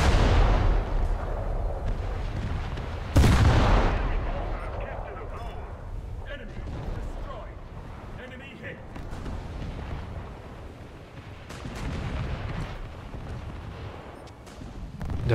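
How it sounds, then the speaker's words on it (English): A boat's gun firing SAP shells in a naval video game with British coastal craft, heavy booming shots with one loud blast, under continuous talk and engine rumble. "I should not really be firing sap at Grisham."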